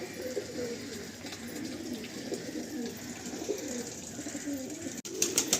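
Suleman Kagji pigeons in a Tollygunge loft coo steadily and softly throughout, a continuous layered murmur of many birds with a brief sharper rustle near the end.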